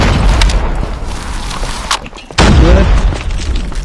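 A grenade explodes in a Call of Duty Mobile squad match, a loud close boom with a heavy low-end burst that briefly drops out and returns, over constant battle noise.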